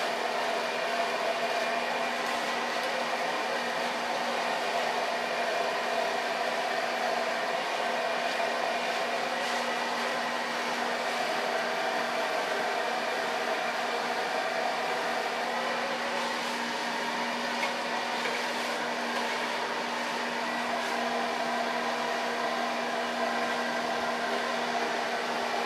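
A hair dryer blows steadily throughout, loud and close with a constant whir and no pauses, used for blow drying short curly hair after a nape and side-shave cut.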